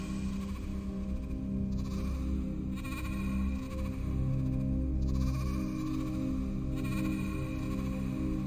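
Repeated sheep bleats sound over a droning, tonal background, several drawn-out cries recurring every couple of seconds.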